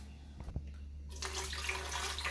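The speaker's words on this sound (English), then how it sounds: "So I'm just pouring some water in my blender." Water being poured into a blender, a loud, steady rushing stream after a couple of faint knocks, continuing to the end with no talking.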